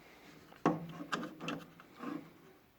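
Metal eye screws being turned by hand to seat a crankshaft in a homemade emergency ventilator: a sharp knock, then several scraping, rubbing turns, close and fairly quiet.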